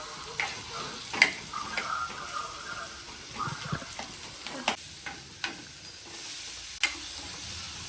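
Onions being sautéed and stirred in a pan, a faint low sizzle punctuated by light irregular taps and scrapes of a spoon against metal.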